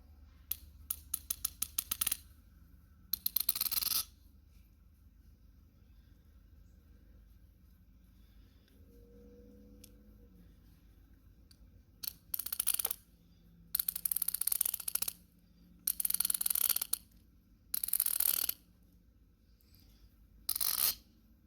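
A metal thread tap cuts 8-32 threads into a lightsaber hilt crossguard while lubricated with WD-40, giving bursts of dry ratcheting clicks and scraping in separate runs between quiet pauses, close up with no talking.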